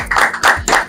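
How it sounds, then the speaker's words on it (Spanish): Short burst of applause from a small group at an indoor gathering, three quick rounds of clapping close by. "vamos a dar un aplauso"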